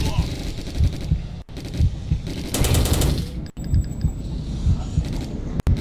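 Rapid automatic weapon fire from the PC shooter Jonathan Kane: The Protector, loud and close, in repeated bursts with brief gaps and a dense rattling stretch in the middle.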